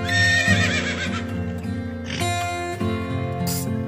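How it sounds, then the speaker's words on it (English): A horse whinnies in a drawn-out, wavering neigh over a bright children's phonics song with steady music throughout, followed by a short clip-clop of hooves. "H for horse."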